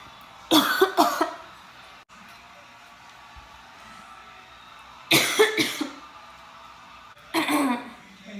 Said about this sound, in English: Both of you coughing?